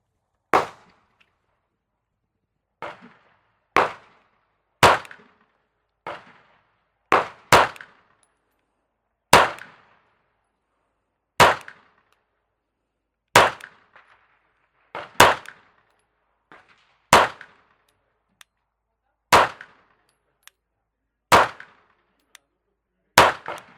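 Shots from an SCT17 ring out at steel targets, around fifteen sharp cracks with bright metallic clangs, spaced irregularly a second or two apart, some in quick pairs, loud and close.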